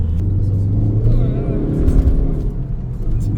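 A Ford Focus ST engine revs with a deep, muffled exhaust rumble from the rear, loud and steady, as someone talks over it.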